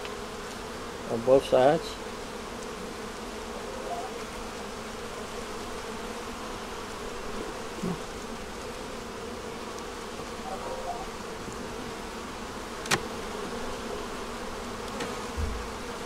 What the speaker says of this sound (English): These bees right here in the nursery